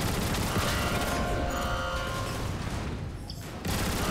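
Rapid bursts of heavy turret gunfire in Transformers War for Cybertron, a dense, loud fusillade of shots that thins briefly near the end before resuming.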